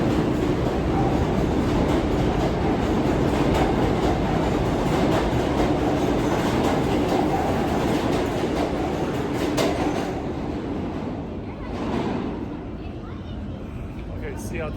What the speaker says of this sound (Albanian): Po shko treni.